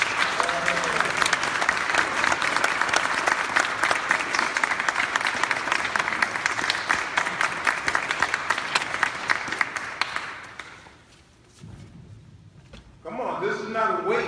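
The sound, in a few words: audience applause welcoming Mel Witherspoon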